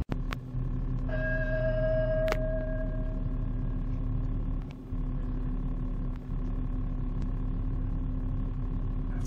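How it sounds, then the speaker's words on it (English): A parked ice cream truck at night gives off a steady low engine hum, with a single sustained, eerie bell-like tone ringing out early on over the idling drone. "This ice cream truck plays some creepy bell sound over and over again while parked late at night."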